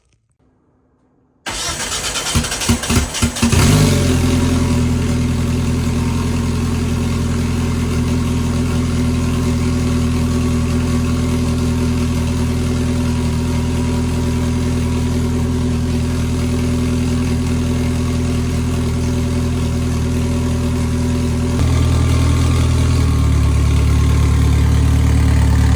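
Vehicle engine in a barn cranks, catches and starts, then runs loud and steady at idle for over twenty seconds, with a slight change in pitch near the end as it pulls away in first gear.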